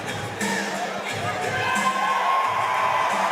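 A crowd at an MMA fight entrance cheers and shouts, a sustained roar that builds and holds loud with whoops rising over it, and the cage announcers can be heard faintly.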